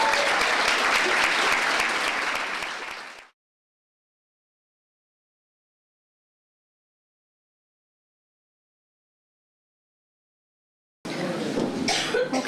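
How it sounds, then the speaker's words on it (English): Audience applause at a County Roscommon childcare committee anniversary and annual awards night: a loud, full round of clapping that stops abruptly, followed by a long silence and then a second burst of clapping. "How about giving them a big round of applause?"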